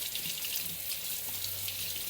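Cold tap water runs steadily over a freshly churned butterball as the leftover buttermilk is rinsed off, giving a continuous close hiss of flowing water with no talking.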